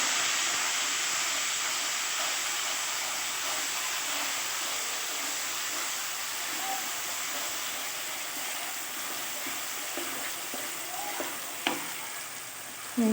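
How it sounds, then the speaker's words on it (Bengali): Spice paste and turmeric frying and sizzling in hot oil in a wok while being stirred for a restaurant-style chicken curry, a steady close hiss with a few scraping clinks near the end. "এবার পেস্ট করে রাখা মশলাটা আমি এর মধ্যে অ্যাড করব, দিয়ে ভালো করে মশলাটাকে কষিয়ে নেব তেলের সঙ্গে"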